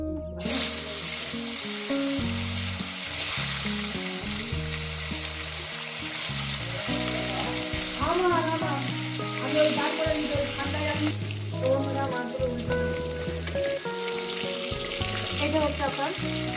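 Pieces of silver carp fried in hot oil, with continuous loud sizzling and crackling plus occasional stirring and clinks, and no talking.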